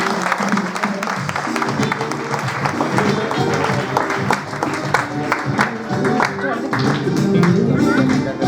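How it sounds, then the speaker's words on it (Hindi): A congregation at Nanded Methodist Church claps to welcome guests during a Mother's Day celebration. Dense, continuous clapping runs throughout, mixed with music and voices. "प्लीज हम ताली बजा के उनका स्वागत करेंगे।"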